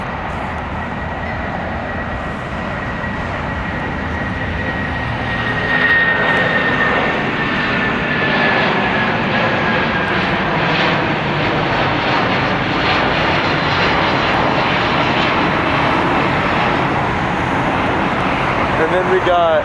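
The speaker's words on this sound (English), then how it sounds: "And then we got the 757-200. This one heading up to Boston, flight 1783." A Boeing 757-200 jet roars steadily as it departs LAX for Boston, a loud broadband engine rush that swells slightly midway and holds for the whole stretch, with a faint whine riding on top.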